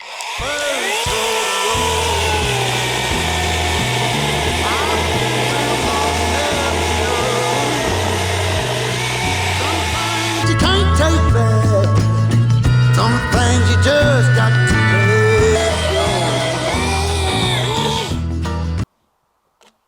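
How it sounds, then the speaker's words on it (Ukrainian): A Grand 20V cordless mini chainsaw cuts through dry, solid wood, a loud, steady, close whining buzz that strains and shifts pitch under load for nearly twenty seconds before cutting off abruptly. "Як чуєте, це сухе дерево, взагалі не трухляве. І сухе дерево набагато важче різати."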